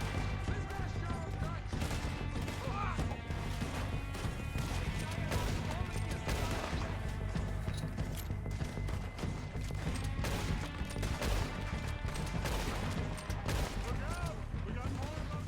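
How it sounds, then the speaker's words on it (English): Red Dead Redemption 2 gunfight with a dense, continuous fusillade of rifle and pistol shots cracking throughout, layered with game noise and overlapping talk. "Oh, who's shooting right there?"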